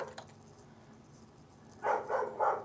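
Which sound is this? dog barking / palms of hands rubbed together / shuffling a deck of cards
dog barking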